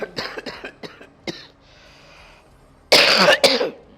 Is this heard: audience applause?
no